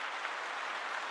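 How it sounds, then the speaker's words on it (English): Steady applause sound effect playing at a livestream opening, a dense even wash of clapping held at constant level for about a second with no voices. "Let me just do a little bit more applause"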